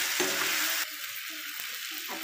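Chili powder, turmeric and coriander powder tipped into broccoli frying in a pan, a loud sizzle that dips and flares with stirring, with no talk.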